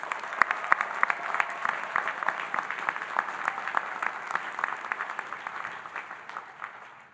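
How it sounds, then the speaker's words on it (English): An audience at a 2023 university commencement ceremony applauds, many hands clapping in a steady, dense patter heard from a distance at moderate volume, tapering off slightly toward the end. "Please give them a big round of applause."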